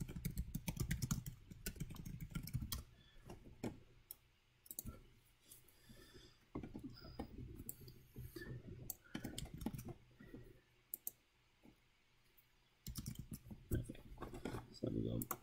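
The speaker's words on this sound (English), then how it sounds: "Let me type this out for you." Keys clatter in bursts of fast, irregular clicks on a computer keyboard, with quiet pauses between runs of typing and a loud flurry at the end.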